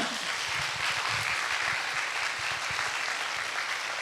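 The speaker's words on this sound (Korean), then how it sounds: "박수 한번 드리십시다." Steady applause from a church seminar audience, dense and even throughout, many hands clapping together at moderate volume.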